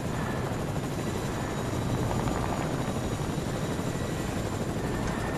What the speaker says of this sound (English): Where's my helicopter?